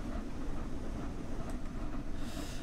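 Flying Scotsman steam locomotive in Train Sim World 4 climbing an uphill grade, a steady dense rumble of engine and rolling stock with no gaps, a faint hiss brightening toward the end.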